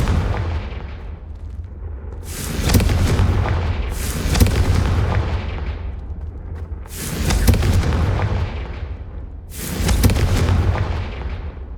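Four booming explosions from the Confringo blasting spell in Hogwarts Legacy, each a loud broadband burst with a decaying tail, arriving at roughly two- to three-second intervals over a constant low rumble.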